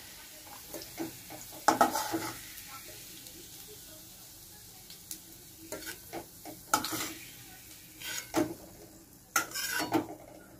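Soft sizzle of onion rings frying in oil, with intermittent stirring scrapes and clinks of a spoon against the pan.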